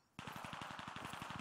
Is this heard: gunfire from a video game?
yes